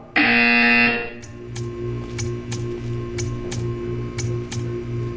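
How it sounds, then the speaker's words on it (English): A loud, harsh buzzer in the video game Portal 2 blares for about a second, then a steady low hum runs under a regular series of sharp ticks. "When you hear the buzzer, stare at the art."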